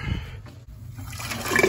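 Water rushes through a steam boiler during maintenance after it has been stirred, a gurgling flush that builds and grows louder toward the end of the short stretch, with no talk over it.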